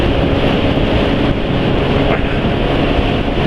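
Motorcycle engine held at high RPM while running Prestone 20W-50 oil, with a steady loud roar and wind rush that stays nearly constant throughout, close to the microphone.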